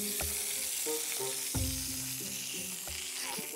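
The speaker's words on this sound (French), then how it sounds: "il est temps de retourner à la cuisson de la picanha" Black Angus beef picanha sears in a hot pan with a steady close sizzle and frying crackle, broken by a few sharp clinks and scrapes of cooking utensils.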